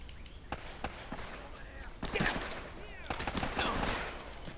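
Rapid bursts of gunfire in Uncharted: Drake's Fortune, a jungle shooter game, crackle in clustered volleys over a low rumble, growing heavier in the second half as a voice talks over them.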